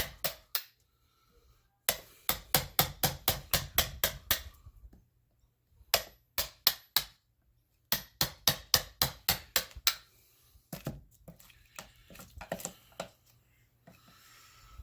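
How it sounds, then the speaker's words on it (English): Sharp wooden knocks from a chisel working small edge pieces out of a wooden dishing stump, coming in rapid close bursts of a dozen or so hits, with short pauses between runs. "Just gonna hang out with my chisel and work these little pieces out."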